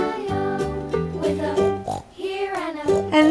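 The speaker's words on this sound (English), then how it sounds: "Oink oink," Cartoon-style pig oinks from a children's farm-animal learning song, several grunting snorts mixed over a bright, bouncy musical backing.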